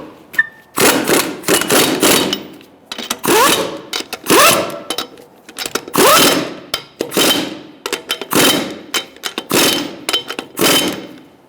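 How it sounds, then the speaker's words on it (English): A 21mm socket on a ratchet or impact tool tightens wheel lug nuts on a 2012-2017 Hyundai Accent in a crisscross pattern, heard as a series of loud, close, buzzing bursts separated by short pauses. "we're going to tighten up our lug nuts in a crisscross manner"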